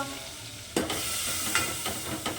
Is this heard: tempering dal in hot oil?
yes